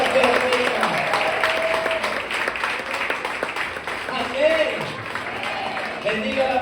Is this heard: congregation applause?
yes